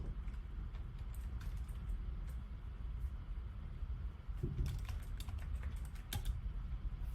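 Fingers type on a computer keyboard in a quiet room, clusters of light rapid key clicks with short pauses between bursts, over a steady low background rumble.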